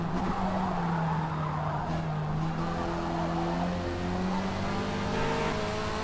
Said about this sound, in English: I'm really trying to prevent the car from sliding.